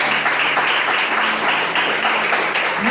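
A church congregation claps hard in praise, producing a dense, continuous wash of many hands with a loose rhythmic pulse. A voice murmurs faintly beneath the clapping.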